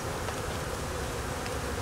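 Honey bees buzzing in an opened hive, a loud, unbroken swarm drone filling the whole moment, near and even, with no talking.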